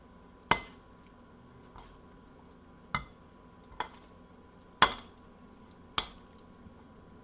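Fettuccine with Parmigiano Reggiano being tossed in a pan, giving about five sharp, quiet clinks and taps of utensil on pan, widely spaced over a soft, steady background with no talking.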